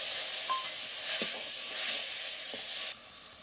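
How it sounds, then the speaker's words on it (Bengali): Jackfruit curry masala sizzles steadily in a pan as water is added, with a broad hiss and a few soft stirring knocks, close and continuous, then the sizzle drops abruptly near the end. "কষি নিয়ে সিল হওয়া জলটা দিয়ে দিলাম"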